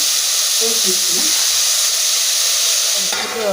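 Tomato and onion frying in a pan for sambar give off a loud, steady sizzle and hiss, with brief stirring scrapes on top and a soft voice low in the mix.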